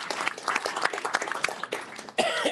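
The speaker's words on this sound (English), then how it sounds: "Let's give him a round of applause anyway." A short burst of applause from a small group at a board of directors meeting, fairly close and steady, with scattered individual claps and a voice at the end.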